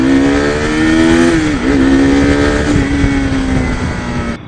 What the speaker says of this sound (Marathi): मला इथून खूप आवडतं गाडीचा पळवायला.